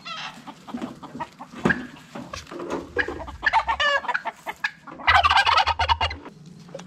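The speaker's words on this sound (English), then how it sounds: "They're in full alert mode, the turkeys and the peacocks." Turkeys gobbling and peacocks calling nearby at a medieval château, a burst of excited overlapping bird cries rising and falling, loudest in rapid gobbles toward the end.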